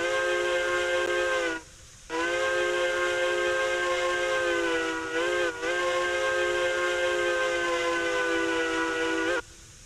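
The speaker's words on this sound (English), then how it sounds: "K27, Mikado K27. Listen to the whistle." A Mikado K27 steam locomotive whistle in the video game Railroads Online blows in long, steady blasts, briefly cutting out twice before sounding again, loud and clear with no voices.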